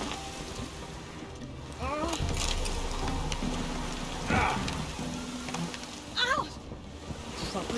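Heavy rain in a video game pours down steadily in a constant dense hiss, with a few sharp knocks and a voice briefly heard over the downpour.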